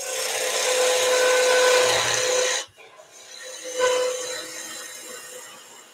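A wood lathe turns as a tool tapers the end of a wooden potting shed tool, giving a loud continuous rasping scrape that cuts out abruptly, then resumes more quietly in a brief second pass.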